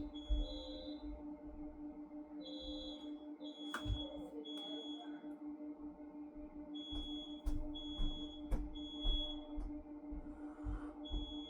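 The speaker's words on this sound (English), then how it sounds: "The fire alarm went off," A smoke alarm set off by something burnt in an oven sounds in repeated short, shrill electronic beeps, coming in groups with brief gaps, over a low indoor hum and faint room noise.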